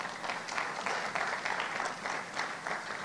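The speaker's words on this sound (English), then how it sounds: "Applause for him, please." Audience at a career development program event applauding, with moderate, steady clapping that swells and ebbs slightly and no talk.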